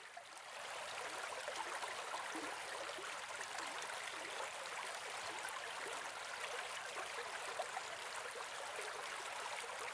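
A brook flows with a steady, soft rushing and babbling that stays even and continuous for the whole stretch, faint in level and free of any voices.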